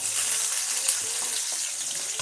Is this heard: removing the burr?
no